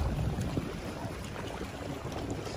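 Steady low rumble of a boat moving across water, with wind buffeting the microphone and faint splashing, continuous and fairly close.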